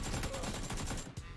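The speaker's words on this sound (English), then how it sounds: "there's some nice shots with the AK again" AK rifle fires a quick string of evenly spaced automatic shots in the mobile shooter PUBG Mobile, loud and close, stopping abruptly after about a second.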